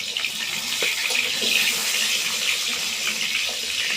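A steady, close sizzling hiss of potatoes frying in hot mustard oil in a kadai, dotted with small crackles and pops, with no voices.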